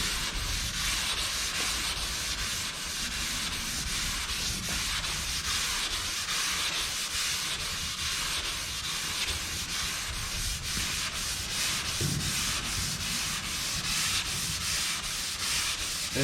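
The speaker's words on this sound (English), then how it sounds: "I want to be able to wet sand it and go right into paint" Wet sanding of primer on a car body, a continuous close, loud abrasive rubbing hiss with a steady back-and-forth texture throughout, no voices.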